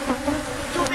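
Honey bees buzz around an open hive while its frames are inspected, a short, close, continuous drone with no talk.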